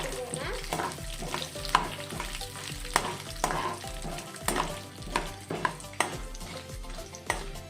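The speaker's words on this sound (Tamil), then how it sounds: "கிளறி விட்டுக்கோங்க" Urad dal and dried red chillies frying in a pan, with a continuous sizzle broken by rhythmic, loud spatula scrapes and knocks as the mixture is stirred.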